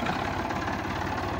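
A tractor engine idles steadily beside a borewell in Punjab, a low, even mechanical rumble with a continuous throb that holds at constant loudness throughout.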